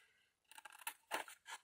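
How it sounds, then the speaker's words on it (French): Scissors cutting paper for a Christmas-themed craft box, a handful of short, close snips in an uneven rhythm, quiet in a still room. "je vous le montre, je vous le découpe"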